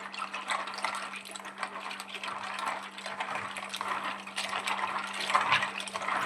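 Pasta being rinsed in a bowl of water in a home kitchen, with a steady sloshing, trickling wash of water running for several seconds at moderate level, no talk.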